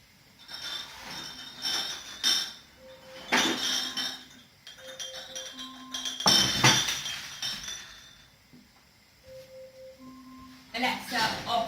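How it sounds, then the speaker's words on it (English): Glass jars clink and knock together as they are lifted out in a home kitchen while blackberry jam boils, a series of bright, ringing clatters in irregular bursts with quieter gaps between them. "I'm just going to get the glass jars out ready"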